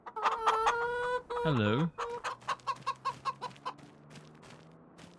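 Chickens in the Farming Simulator 25 video game cluck in a series of short, close, rhythmic calls, with one longer drawn-out squawk near the start, and someone says a brief word.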